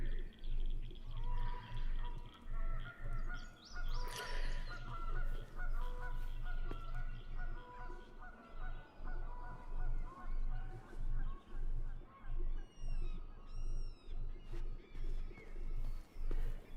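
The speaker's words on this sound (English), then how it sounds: "Those noises of birds are amazing." Honking goose-like bird calls from the video game Tell Me Why repeat over a steady low hum, with scattered chirps and coos rising and falling throughout.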